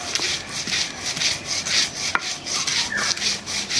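Crisp dried puti fish and fried onion get crushed on a grinding surface, repeated gritty rubbing strokes in a steady rhythm, close up, with a few sharp clicks.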